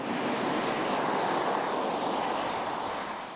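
A NASA PTERA multi-engine radio-controlled research airplane flies past, its engines giving a steady, loud broadband drone that holds for several seconds and eases off slightly at the end.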